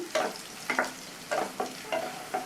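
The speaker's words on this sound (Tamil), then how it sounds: "இந்த நெய் எண்ணெய் கலவையில் நம்ம பாதி வேக வச்ச உருளைக்கிழங்கு நல்லா வதங்கி சாஃப்ட் ஆயிடுச்சு." Half-boiled potatoes fry in a ghee and oil mixture for javvarisi kichadi as a spatula scrapes and stirs the pan in about five rhythmic strokes over a soft sizzle, close and alone.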